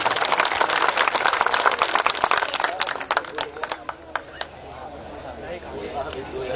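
An audience at a Kshatriya unity conference gives loud, dense applause that thins after a few seconds into scattered individual claps, with a faint crowd murmur underneath.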